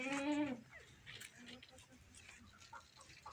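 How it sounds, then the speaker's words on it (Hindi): A Teddy goat on a goat farm in Pakistan gives one short, wavering bleat at the start, then quieter farm sounds and faint background noise follow. "ये टेडी बकरी है, ये दूसरी ये बड़ी बकरी है"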